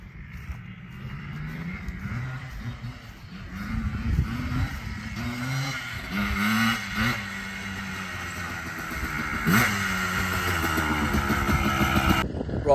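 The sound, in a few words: Yamaha Blaster two-stroke motorbike engine running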